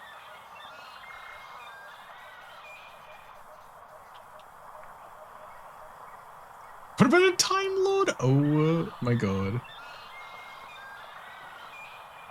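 Several loud honking goose calls burst out in a short cluster from the Powerwash Simulator 2 game world, rising over a steady background hum while players chat before and after.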